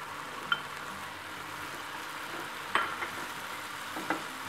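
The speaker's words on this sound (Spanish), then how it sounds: "vamos a agregar el camarón picado que teníamos" Chopped shrimp fry in a pan for tacos gobernador, giving a steady, soft sizzling hiss with a few faint utensil clicks, close and without talk.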